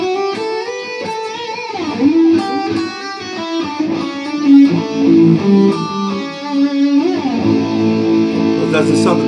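A guitar plays a melodic lick in A Mixolydian with clear, ringing single notes, sliding pitches and sustained tones, loud and close, with a tapping-style phrase flowing through about nine seconds.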